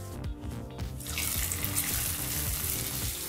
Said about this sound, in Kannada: ಈಗ ಈ ಒಗ್ಗರಣೆನ ಪೈನಾಪಲ್ ಗೊಜ್ಜಿಗೆ ಹಾಕೋಬೇಕಾಗತ್ತೆ.